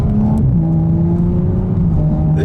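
An Audi S4 3.0 TFSI quattro engine burbles from inside the cabin, a steady, loud, low drone that dips briefly in pitch and then holds.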